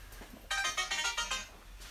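Mobile phone ringtone sounding loud and close, a bright repeating melodic pattern of several rising tones from the half-second mark onward, with no talk over it.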